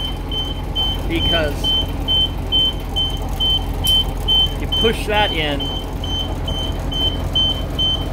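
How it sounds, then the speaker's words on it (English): A school bus's turn signal or hazard lights tick in a steady, evenly spaced series of sharp clicks over engine idle, while a person talks intermittently. "it may sound a little different when I turn the signal on"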